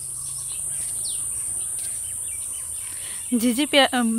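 Crickets chirp steadily in a green village setting, a faint high continuous trill, joined near the end by a few short bird calls.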